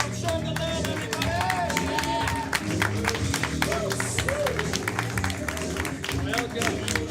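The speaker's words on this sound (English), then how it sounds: "Clap for our show the love, everybody!" An audience applauding returning performers at a live comedy show, dense sustained clapping with crowd cheers and a voice calling out over the crowd noise.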